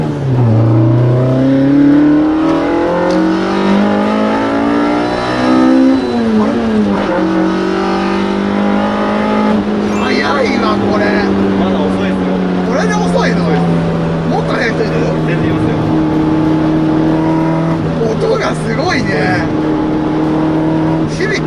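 Toyota AE86 Trueno with quad throttle bodies and a high-lift cam revving hard, its engine note sweeping up and down through repeated climbs and holds at close range, with people talking over it.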